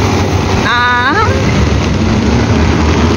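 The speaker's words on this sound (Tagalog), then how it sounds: "Lakas ng ulan." Heavy September rain on a city street, a dense continuous wash of noise close around, with a short voiced sound rising over it for a moment.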